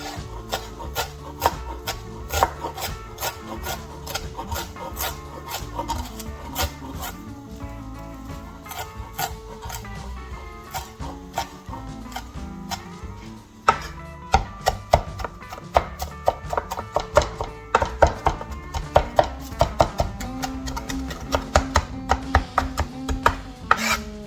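Knife chopping leftover parsley on a cutting board, a steady run of quick, close taps and scraping strokes, louder bursts of rapid chops in the second half, with no talk over it.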